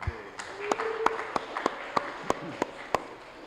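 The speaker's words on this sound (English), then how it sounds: "Let's give Angela a big round of applause" Sparse applause at a police culture summit, a handful of sharp, distinct claps spaced out over a few seconds against a murmur of voices in the room.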